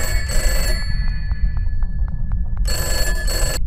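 A telephone bell rings in short repeated bursts, loud and close, between stretches of background noise and a brief louder passage at the end.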